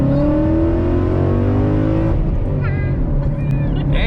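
A Ford Mustang accelerates hard, loud and close, its engine note climbing and then dropping at a gear change before building again, with a brief high squeal over the rumble.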